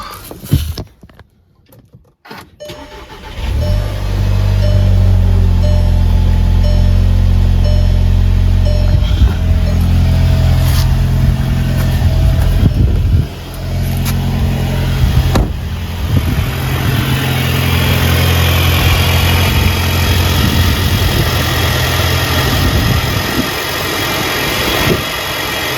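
A car fitted with an Integrated Engineering intake cranks over after a brief quiet moment and catches, then settles into a loud, steady idle close by. A short dip and slight rise in engine sound come partway through, and it keeps running evenly to the end.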